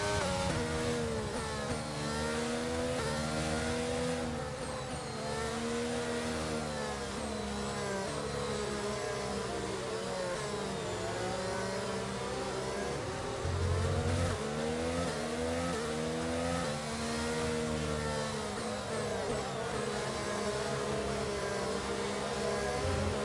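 Race car engines in a racing video game drone loudly and continuously, their pitch rising and falling in smooth sweeps as they accelerate and shift, with no speech over them.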